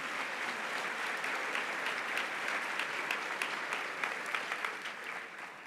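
Church congregation applauding during a sermon, a dense, even wash of clapping from many people with some sharper individual claps, tapering slightly at the end.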